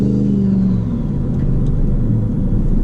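A car engine fitted with a big turbocharger builds boost under load, giving a loud, close, steady rumbling drone with a faint rising whine above it and no talking.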